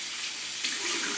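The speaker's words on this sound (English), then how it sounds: "You're supposed to rinse it thoroughly." Tap water runs steadily at a sink while a turmeric face mask is rinsed off, a close, even hiss that grows slightly fuller partway through.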